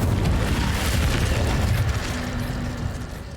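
The Incendio fire spell from Hogwarts Legacy bursts out as a loud, roaring whoosh of flame with a deep boom, then slowly trails off into a softer crackling rush.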